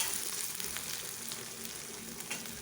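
A green chili frying in hot oil with curry leaves in a pan for pongal tempering, giving a steady close crackling sizzle with occasional louder pops.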